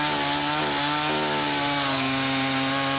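A chainsaw roars steadily at close range, its engine tone holding and shifting slightly as the chain bites into wood.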